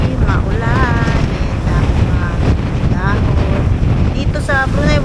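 Strong wind on a rainy morning in Brunei buffets the microphone in a loud, continuous roar, with faint tonal calls surfacing briefly through the gusts.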